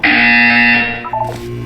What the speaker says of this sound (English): When you hear the buzzer, look down at the floor.